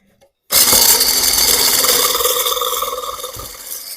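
Eggs whisked briskly in a bowl, a loud continuous rapid scraping and clatter that starts abruptly and fades slightly toward the end.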